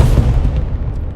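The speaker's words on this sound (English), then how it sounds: "artillery" Artillery fire in a video game: a loud, deep booming rumble, close and heavy, fading slightly over about a second.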